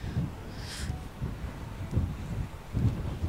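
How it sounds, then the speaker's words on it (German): Strong gusty wind during a storm on the Rhine at Tolkamer, a low buffeting rumble that swells and thumps against the microphone in uneven pulses. "Es ist so windig."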